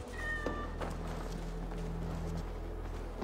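A cat in Assassin's Creed Valhalla meows a few times over a steady low game soundtrack hum, fairly faint and without speech.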